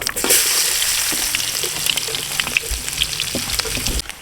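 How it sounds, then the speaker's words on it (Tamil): Mustard seeds and onion fry in hot oil for a fish gravy cooked in a village setting, a steady loud sizzle with scattered pops and crackles throughout. "இப்போ எண்ணெய் காஞ்சிருச்சு கடுகு போட்டுப்போம் இப்போ வெங்காயம் போட்டுப்போம்"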